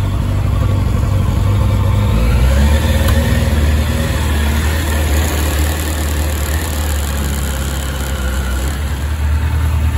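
A Suzuki RF900R motorcycle engine, newly swapped in, runs continuously close up with a rough, steady rumble and no pauses, loud and unbroken through the whole stretch.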